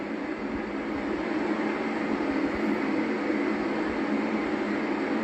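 The Amtrak Coast Starlight train rolls through a railroad crossing at Fairway Drive in San Leandro, a steady loud rumble of passing cars with faint rhythmic wheel clacks over the rails, continuous and close.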